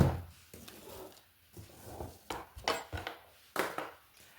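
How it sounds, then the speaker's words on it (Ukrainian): A knife cuts hake fish into pieces on a board, quiet irregular scraping and thudding strokes separated by short pauses, with no talking. "Ріжу рибку, ну от, одну рибку на три кусочки."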